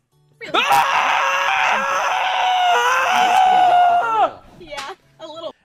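A male streamer lets out a long, loud, strained scream lasting several seconds, then breaks off into shorter vocal yelps and groans, heard in a clip played back during a stream.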